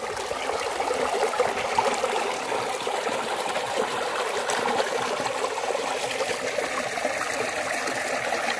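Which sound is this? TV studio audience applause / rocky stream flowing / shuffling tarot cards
rocky stream flowing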